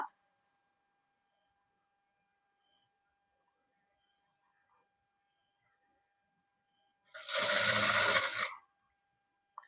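A sewing machine stitches the collar of a fabric cap in one loud burst of about a second and a half, standing alone after a long near-silent stretch.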